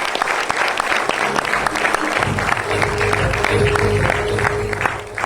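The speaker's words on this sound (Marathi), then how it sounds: "सचिन सर आणि सचिन सरांच्या मॅडम या दोघांसाठी एकदा जोरदार टाळ्या व्हायला पाहिजे" Steady applause from a crowd, sustained clapping throughout with a faint voice or tone running beneath.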